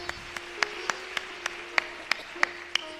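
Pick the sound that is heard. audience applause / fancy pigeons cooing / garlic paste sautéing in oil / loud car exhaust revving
audience applause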